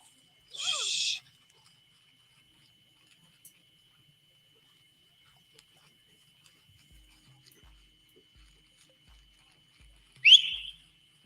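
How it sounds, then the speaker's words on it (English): Two short, sharp, loud whistle blasts from people trying to scare off a bear, one at the start and another near the end, separated by near silence with faint low thuds. "They're trying to whistle to make the bear go."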